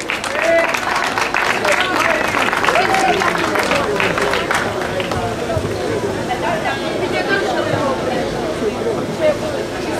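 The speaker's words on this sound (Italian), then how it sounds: "Ma l'applauso lo vorrei anche per Francesco Calarco" An outdoor crowd applauds the winner of a motor slalom race at Oppido Mamertina, a dense, continuous patter of clapping that stays loud throughout, with voices chattering through it.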